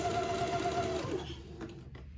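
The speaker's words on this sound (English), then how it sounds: "I'm literally having to zigzag underneath the pleat" A sewing machine runs a zigzag stitch beneath a fabric pleat on a twin's daygown, a steady close whirring that slows and stops partway through, followed by a couple of faint clicks.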